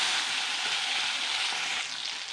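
Onion, chilli, tomato and ground spices sizzle loudly in leftover fish-frying oil, a dense continuous close hiss that eases slightly toward the end.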